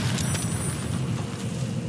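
Thunder Wave spell blast in Baldur's Gate 3, a heavy booming rumble with a sharp crackling onset and sustained low-end roar, fairly loud and alone.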